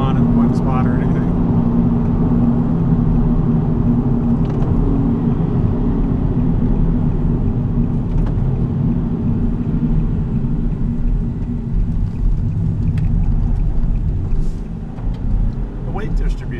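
A Nissan 370Z coupe on a test drive, its engine a steady low rumble heard from inside the cabin, with people talking over it throughout.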